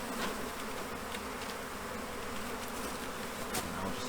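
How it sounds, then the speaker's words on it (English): Honey bees freshly shaken into a hive after a swarm buzz in a loud, continuous hum with a few brief sharper bursts and no talking. "I want to just shake in these other bees from this other colony"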